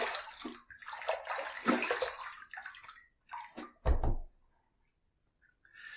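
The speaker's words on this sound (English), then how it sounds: "Let's rinse." Running water rinses the face after a shave with shave soap, a close splashing flow for a few seconds, broken by a dull thunk, then the water stops and it goes quiet.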